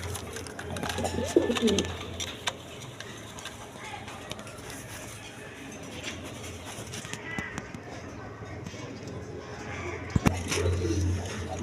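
Pigeons coo at a pigeon farm, low throaty calls in a few short bursts over steady background hum and shuffling, with occasional clicks and thumps nearby.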